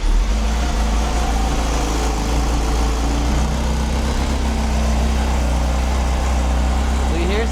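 Cold start of a 2025 Honda CBR1000RR-R Fireblade SP fitted with an SC Project exhaust, a steady loud low idle rumble running throughout, with a person talking over it.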